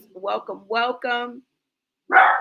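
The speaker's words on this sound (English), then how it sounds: "Probably barking at the mailman." A pet dog named Stormy barks indoors, a few short yapping bursts close to the mic that trade off with a person talking.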